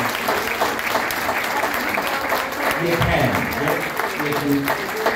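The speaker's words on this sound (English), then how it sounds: "another round of applause" An audience at a lunch event applauds loudly and steadily throughout, with a voice speaking over the clapping.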